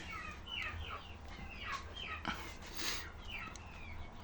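Chickens and a rooster in a backyard coop give scattered clucks and short calls over a steady low hum, moderately near and not loud.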